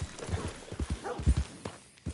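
Horse hooves clip-clop at a steady gallop in Red Dead Redemption 2, a rapid rhythmic run of close thuds over about two seconds, with a faint rider's voice mixed in.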